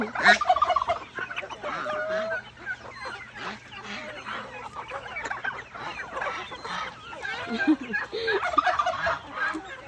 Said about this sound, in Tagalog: Yung mga pabo at saka ito, oh